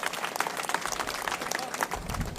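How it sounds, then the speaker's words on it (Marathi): A crowd at a ceremony for girl students receiving bicycles applauds in a steady, fairly faint patter of many hands clapping at once. "मी आपल्या सर्वांना विनंती आवाहन करतो की टाळ्या वाजून त्यांचं अभिनंदन आपण या ठिकाणी करूया."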